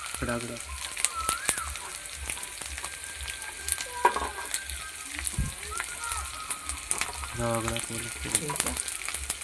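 Whole cumin, garlic and red chilies frying in a pan, a close crackling sizzle with sharp pops and spatula stirring, while voices talk intermittently over it.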